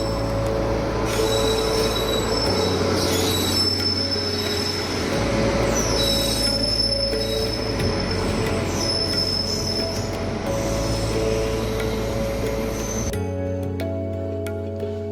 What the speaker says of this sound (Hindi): दिल्ली जाने वाली ट्रेन स्टेशन पे पहुंच रही है, जो बीकानेर के ही सब स्टेशन लालगढ़ से आती है।